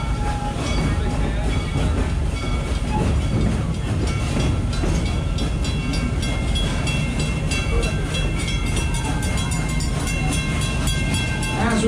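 A steam train at Busch Gardens Tampa rolls along its rails from Stanleyville, heard from on board. Its rumble and clatter are loud and continuous throughout, with a faint squeal or whistle tone above.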